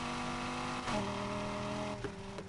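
V10-swapped BMW M4 GTS in Need for Speed Heat holding a loud, steady idle-to-rev engine drone, with a brief throttle blip near the middle and a softer dip toward the end, no voices.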